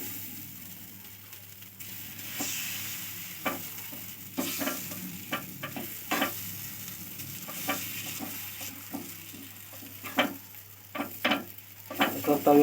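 Mung dal dosa batter sizzling on a hot tawa greased with oil and dalda: a continuous soft fry hiss punctuated by scattered sharp clicks and scrapes, growing busier toward the end.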